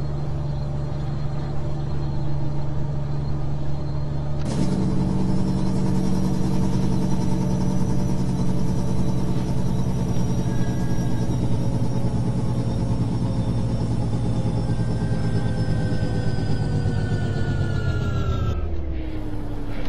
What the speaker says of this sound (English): when I don't have the engine revved up, you can hear a little bit of a whine in the gears